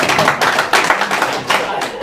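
Audience applause in a Liverpool comedy club, a short burst of close, loud clapping and tapping with uneven rhythm that stays steady for about two seconds while people talk over it.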